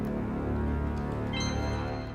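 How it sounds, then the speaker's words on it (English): Placeholder boost sound for a plane in a jet-fighter game being built in CREY: a steady, loud droning roar with low tonal hum, joined midway by a high whining tone that rises over it. "And it has a pretty crazy boosting sound right now."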